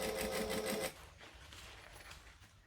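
Domestic sewing machine running in a fast, even whir as it stitches a fabric lining closed, then stopping abruptly, leaving quieter rustling and handling of the cloth.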